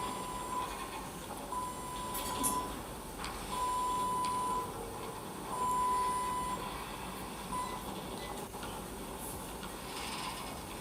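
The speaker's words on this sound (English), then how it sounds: "No, don't start beeping at me, machine." Repeated electronic beeps from a machine in a video game, sounding as short tones in an irregular series over a low mechanical hum, fairly faint, with no talking.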